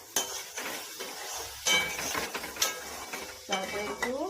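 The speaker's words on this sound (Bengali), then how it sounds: "তারপর একটু কড়াইতে নাড়াচাড়া করে নেব।" A spoon clinks and scrapes against a wok while semolina upma is stirred, with irregular metallic knocks over a soft sizzling background.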